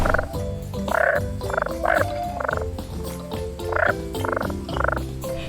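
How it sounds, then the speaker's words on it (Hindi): A frog croaks in repeated rhythmic bursts, about nine loud, close calls spaced evenly across the stretch, with no talking over them. "ये है मेंढक। इसे इंग्लिश में फ्रॉग कहते हैं। ये टर टर करता है"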